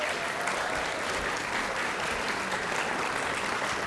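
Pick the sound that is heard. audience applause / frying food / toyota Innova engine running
audience applause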